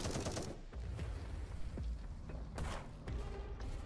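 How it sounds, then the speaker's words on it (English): Enemy miniguns spinning up and firing in 10 Miles to Safety, a dense, continuous rattle of gunfire with scattered heavier thumps, fairly distant and steady throughout. "So you can hear the mini gun, mini their mini guns um, activating, but they take a while to kick in"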